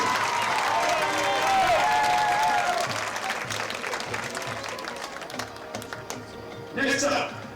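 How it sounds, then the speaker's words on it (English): Crowd applause and some cheering for the homecoming king at a high school football game between Freeport and Burrell, with steady clapping from a stadium audience under a public-address voice, fading slightly before a brief swell near the end. "A round of applause for Kate Reiner and your homecoming king,"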